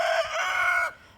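A leghorn cross or gold-laced Wyandotte chicken gives one drawn-out, rising crow-like squawk, close and clear, that cuts off abruptly with a little faint farmyard sound after.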